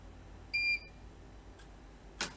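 A Bosch Serie 4 VarioPerfect washing machine answers its start button with a short, clear electronic beep of two stacked tones, followed later by a faint click and a brief tick, in a quiet room.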